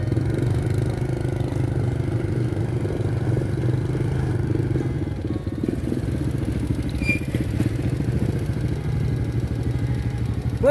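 Motorcycle ridden through the countryside, a steady loud engine chug with rhythmic pulsing and rattly clatter, holding an even note for the whole stretch with wind noise on top.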